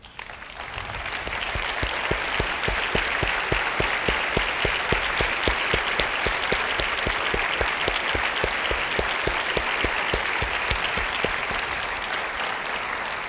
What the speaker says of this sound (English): I would like to ask you just to stand so that I can applaud you one last time